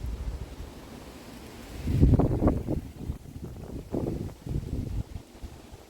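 Gusty wind buffets the microphone in uneven surges, rising sharply midway and pulsing on and off, with rustling outdoors and no voices.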